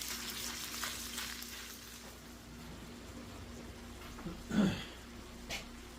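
A pound of 80-20 ground beef browns in a pan with a soft, constant sizzle, quiet and close, broken by a short scrape or clatter near the end.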